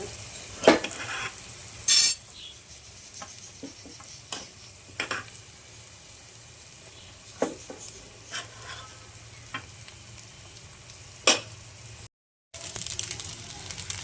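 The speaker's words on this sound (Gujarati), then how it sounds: "હવે આપણે રાઈસ એડ કરી દઈશું." Rice is added to a sizzling pan for white rice pulao with butter, then stirred. A spoon clacks and scrapes against the pan again and again over a low frying hiss, with a brief silent gap near the end.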